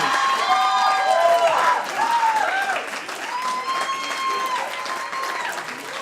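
A crowd applauds loudly, with whistles and cheers rising over the clapping before it gradually fades a little.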